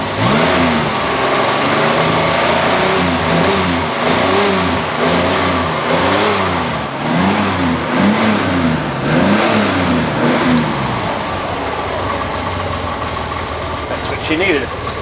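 A Chevrolet Monza's engine, nearly out of gas and burning oil, cold-starts, then revs in repeated surges and settles toward a rough idle, loud and close, with someone talking over it.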